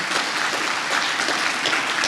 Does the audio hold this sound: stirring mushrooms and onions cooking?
no